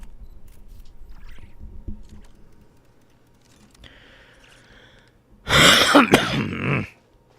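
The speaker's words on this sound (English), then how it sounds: "Just in time for you guys to hear me cough right into it." A sudden, loud cough bursts right up close to the microphone after quiet background noise, lasting about a second and a half.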